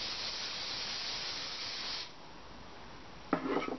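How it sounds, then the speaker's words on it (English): Hairspray hisses from an aerosol can in one steady two-second burst while a side-swept Grecian prom hairstyle is being set. A quieter hush follows, then a brief voice near the end. "you're going to spray it"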